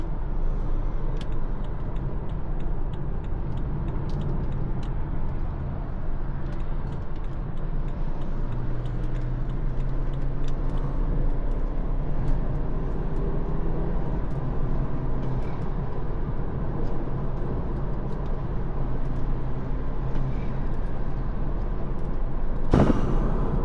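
A Stage 2 tuned BMW F30 drives at speed, its engine a steady, loud low drone with road rumble running throughout, and a sharp burst near the end.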